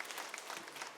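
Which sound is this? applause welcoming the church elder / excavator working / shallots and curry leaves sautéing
applause welcoming the church elder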